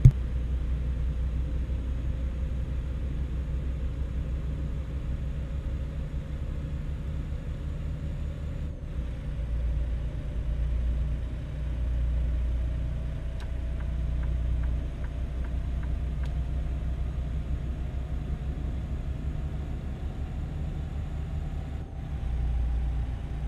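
A truck engine holding full throttle on a freeway in American Truck Simulator, Kansas City, a constant low droning rumble with a slowly rising whine and a couple of brief clicks, no voices.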